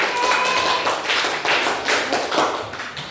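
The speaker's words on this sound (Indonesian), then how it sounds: "Tepuk tangan." Students in a classroom give a short round of applause, a loose patter of claps rising and falling in several waves at moderate volume.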